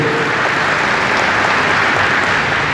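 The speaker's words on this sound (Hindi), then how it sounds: "एक बार जोरदार तालियां हमारे उद्घोषक महोदय के लिए हो" Audience applause at a Kavi Sammelan poetry gathering during a Ganesh Utsav celebration in Yangon, a dense, loud, continuous clatter of many clapping hands with no pauses.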